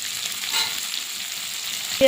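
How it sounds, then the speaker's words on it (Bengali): Shrimp and onion fry in a pan with a steady, close hiss of sizzling oil, ending with a short metallic clink of a utensil against the pan. "দিয়ে ভাজা ভাজা করে নেব চিংড়ি আর পেঁয়াজটা।"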